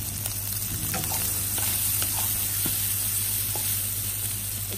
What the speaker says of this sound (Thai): ผัดจนแครอทสุกนะคะแล้วก็ใส่พริกไทยป่นค่ะ